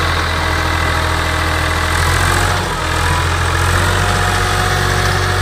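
An old tractor engine idles steadily with a loud, continuous low rumble and a dip in level midway, with no voices.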